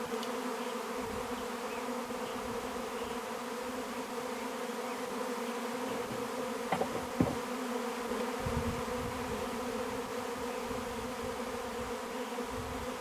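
Steady, dense buzzing of many honeybees swarming close by, a continuous drone with a couple of faint clicks partway through.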